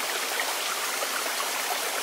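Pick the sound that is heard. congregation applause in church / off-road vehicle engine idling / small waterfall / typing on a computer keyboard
small waterfall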